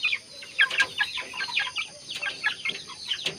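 Two-month-old Belgian Asil chickens clucking in a small backyard coop, a run of short, sharp clucks and squawks close by, with a brief flutter of wings and no talking.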